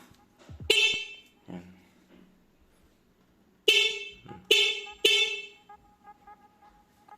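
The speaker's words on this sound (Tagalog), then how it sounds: "So yan, testingin na natin na may busina." Motorcycle horn tested after new wiring: a short beep, then a pause, followed by three quick honks in a row, loud and close, with faint mechanical noise between.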